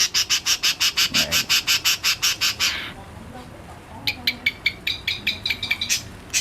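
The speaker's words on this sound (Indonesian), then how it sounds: "ini burung kalau pindah sangkar tetap nggak stres ya, tetap mau bunyi" A caged long-tailed shrike (cendet) sings nearby in loud, rapid repeated harsh squawking notes, a steady run of about fifteen, then a pause and a second more irregular chattering burst.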